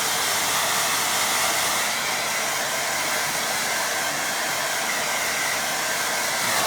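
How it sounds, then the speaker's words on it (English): A hair dryer on full power dries a watercolour painting, a loud, steady whooshing hum that runs unbroken throughout. "Got the dryer on full ball."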